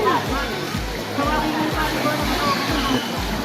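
Clear, cold mountain water pouring out at its source at Paglitao in Tanay, Rizal, a steady, close rushing wash with soft rhythmic low thumps, with voices faintly present underneath.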